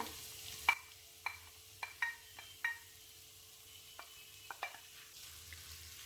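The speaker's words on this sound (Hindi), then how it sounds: "प्याज को भी हमने ज़्यादा फ्राई नहीं करना, जस्ट सोते करना है।" Chopped medium onion sautéing in a pan for black pepper chicken, a faint soft sizzle broken by scattered light clicks and scrapes of stirring, with no voices.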